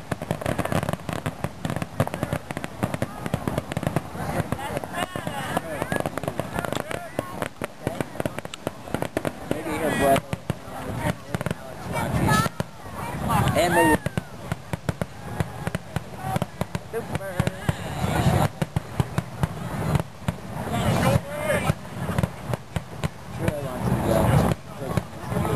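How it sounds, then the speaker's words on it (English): Big fireworks burst and crackle in rapid irregular volleys of sharp pops throughout, with people chatting nearby over the bangs. "These fireworks give me seizures."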